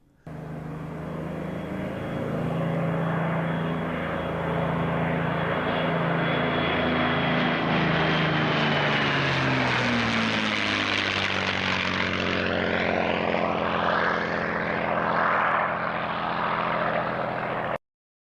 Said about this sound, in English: Crowds would gather to hear the roar of the Merlin engine one more time.